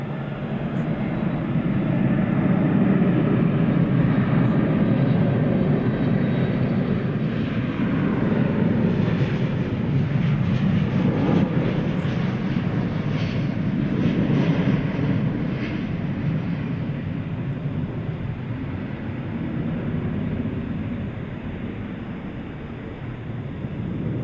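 An airliner takes off from runway 18 left at DFW Airport with a loud, sustained jet roar that swells and holds, broad and rumbling, heard from nearby without any talk.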